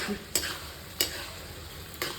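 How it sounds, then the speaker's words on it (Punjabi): Tadka tempering for a home-cooked bharta sizzles steadily in a pan, with three sharp stirring scrapes spaced roughly evenly against the constant fry hiss. "ਇੱਧਰ ਤੜਕਾ ਵੀ ਹੋ ਗਿਆ ਤਿਆਰ"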